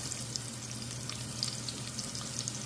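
Ginger frying in a hot pan as Filipino home cooking begins, a continuous bright sizzle with faint crackles and pops, close and steady throughout, with no talking.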